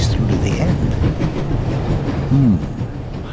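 Steady rolling rumble of a passenger train moving along rails, heard aboard the carriage in The Raven Remastered adventure game, a continuous close drone with a brief tonal squeal near the end.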